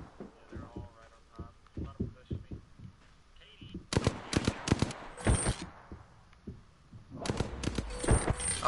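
Bursts of video game gunfire at close range: a few rapid volleys of loud sharp shots, silence, then another burst, with a player talking quietly before the first volley.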